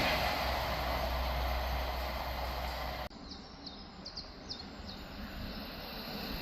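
Unit 800-112, running from Kings Cross to Aberdeen, passes through Thirsk station with a loud, steady rushing roar for about three seconds. The roar cuts off abruptly, leaving quieter outdoor ambience with birds chirping.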